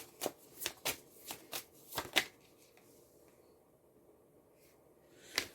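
A deck of tarot cards is shuffled in quick riffling bursts, soft and close, with several distinct shuffles and quiet pauses between them.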